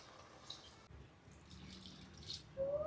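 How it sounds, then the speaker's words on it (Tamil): Water poured from a glass into rice in a pot while making vegetable pulao, a soft trickling and dripping splash that builds slightly toward the end, close by with no talk. "நான் 2 கிளாஸ் தண்ணி ஊற்றுவேன்"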